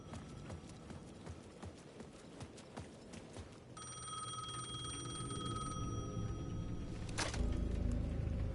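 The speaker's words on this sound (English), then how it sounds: "The payphone at the edge of the plaza was ringing again." A payphone at the edge of a plaza in the horror game Alan Wake 2 rings with a bright, sustained electric bell tone that starts partway through, over rhythmic knocking footfalls and a rising ambient drone.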